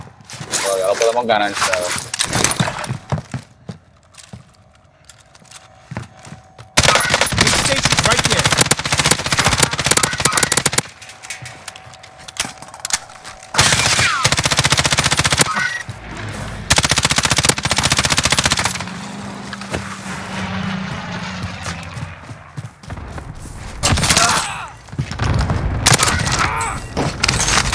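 Repeated automatic gunfire bursts from a Call of Duty Warzone match on the Caldera map, loud and dense in several long stretches, with brief quieter gaps and players talking in between.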